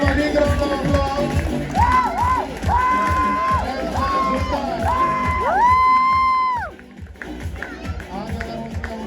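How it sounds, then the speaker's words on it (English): A crowd at a Nesma Premier League (NPL) Season 3 event cheers and whoops loudly, with sustained tonal, horn-like calls rising and gliding above the steady roar before it briefly drops away and then resumes. "Give them a big round of applause."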